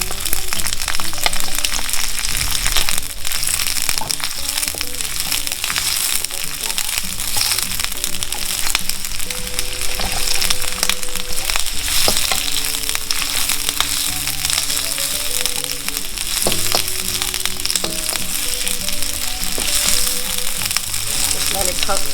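Onions frying in a pan for salt and pepper lobster, a loud, dense and continuous sizzle with occasional scraping and clinks of stirring, sustained throughout with no talk.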